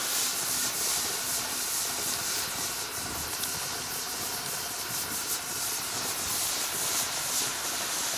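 Steady broadband hiss of a pressure canner venting steam on an outdoor rocket stove, continuous and fairly loud with no pauses.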